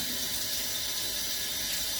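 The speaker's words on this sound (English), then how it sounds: "So I'm going to wash them on the tap, under the tap." Potatoes are rinsed under a running kitchen tap, a steady broadband hiss of flowing water heard close and continuous with no talk.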